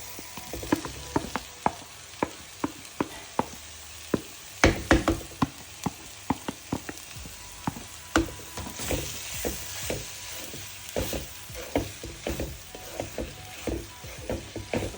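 Fish pieces frying in a pan of hot oil for fish cutlets, with a steady sizzle broken by a regular run of sharp clicks and knocks as the pieces are stirred and turned, and no talk.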